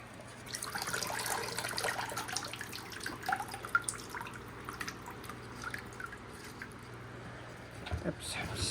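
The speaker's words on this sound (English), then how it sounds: "Oops, splashing everywhere." Water splashes and drips steadily onto potted orchids and plants in an indoor grow room during watering, a soft continuous trickle with scattered louder spatters.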